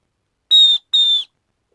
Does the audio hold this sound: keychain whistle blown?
yes